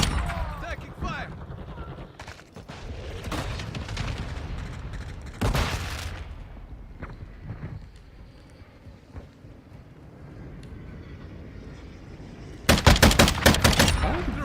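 Call of Duty Modern Warfare II gunfire: bursts of rapid automatic shots and sharp single cracks come in clusters, ending in a loud sustained volley, with a player's voice talking between them.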